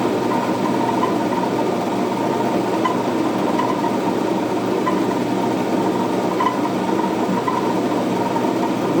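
A 2 7/8 inch drill bit cuts slowly at about 40 RPM under heavy pressure, a steady grinding drone with a faint repeating mechanical tick throughout.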